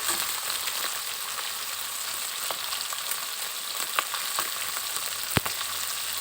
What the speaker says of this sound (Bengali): দেখুন পুঁটি মাছগুলো ভালোভাবে ভাজা হয়ে গিয়েছে